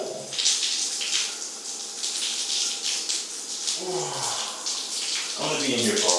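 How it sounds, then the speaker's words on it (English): Shower water pours and hisses steadily up close while a voice briefly speaks under the spray. "it's shower time with the wavy one"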